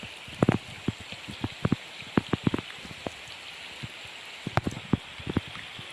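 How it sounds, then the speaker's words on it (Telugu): Rain falls steadily near a river and dam, heard as a close patter of scattered drops striking a surface, with irregular louder hits over a soft continuous hiss. "ఇప్పటికీ మళ్ళీ వర్షం పడుతుంది, కంటిన్యూగా వర్షం పడుతుంది."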